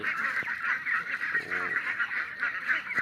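Ducks let out to graze on grass in the evening give repeated nasal honking calls, a steady run of close, overlapping quacks with little pause between them.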